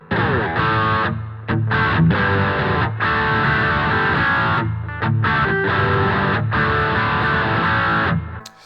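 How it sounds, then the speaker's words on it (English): An electric guitar plays through the crunch channel of a Roland Cube amp with reverb added. It sounds like loud, continuous overdriven chords with brief gaps, sustained and alone without any talking. "now we're going to go onto the crunch channel, and just going to get rid of the chorus and give you a bit of reverb"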